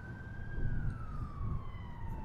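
Ambulance siren in Grand Theft Auto IV running the LCPDFR police mod: a single steady tone that slides slowly downward in pitch over a low engine-like rumble, fairly distant and without talk.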